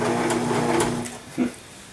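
A Singer sewing machine runs with a steady mechanical whir and hum for about a second and a quarter, then winds down, followed by a short knock as it stops.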